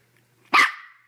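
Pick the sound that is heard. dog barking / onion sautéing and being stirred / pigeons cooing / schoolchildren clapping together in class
dog barking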